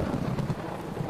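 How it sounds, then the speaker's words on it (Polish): Steady rain falling on the ground, a muffled, continuous patter with a low rumbling wash underneath, heard alone without voices. "przytłumiony dźwięk stukającego o ziemię deszczu"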